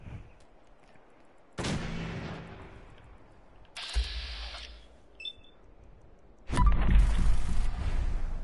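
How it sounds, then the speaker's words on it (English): A baseball grenade explodes in the Fallout 4 video game. Booming blasts and bursts of noise come in separate, loud waves amid mechanical game effects, with no speech during them. "Oh, baseball grenade."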